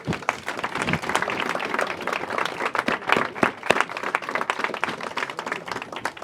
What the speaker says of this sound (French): Donnez-vous un petit applaudissement s'il vous plaît.